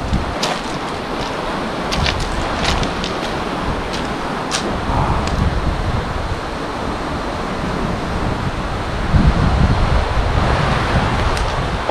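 Rough surf and gusty wind on a Romblon shoreline in the late afternoon, a steady broadband wash with periodic surges of breaking waves and occasional wind buffeting on the microphone, no voices.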